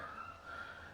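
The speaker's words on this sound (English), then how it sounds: "Oh, sirens in the background, nice." A siren wails faintly in the distance, a thin steady tone heard from afar during work on a Yamaha Fazer 600 motorcycle.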